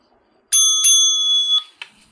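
A bright metal bell rung to start a pitch at a pitch battle, struck sharply once with a sustained ringing tone, then a quick second tap as it fades, close and alone.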